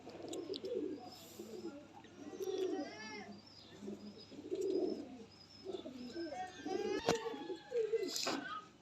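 Pigeons coo in a series of soft, rolling calls from nearby birds, joined by a few higher chirps, while someone talks over them throughout.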